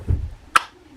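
The cover of a Fin Nor Off Shore 5500 saltwater spinning reel clicks into place with a single short, sharp snap, heard up close after a soft low handling thud.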